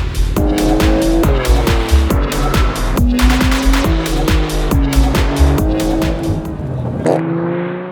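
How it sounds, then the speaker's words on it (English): A Porsche 992 Turbo drives hard and loud up close, its engine rising and dropping through rapid gear changes while the tires squeal, with a shout near the end. "Next, the Porsche 992 Turbo."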